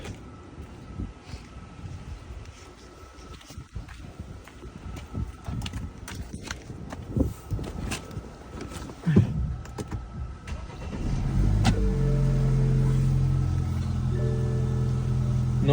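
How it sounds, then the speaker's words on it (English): A BMW N20 engine in a 320xdrive fresh from a timing chain replacement, heard after some clicks and shuffling: the starter cranks, the engine catches and settles into a smooth, steady idle close by. "Now we will start it and listen to engine sound."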